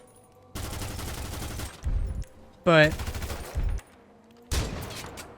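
Custom weapons fire in GTA 5, with several separate bursts of rapid gunfire between pauses, one with a ringing metallic sweep. They are loud and close, and a voice briefly speaks.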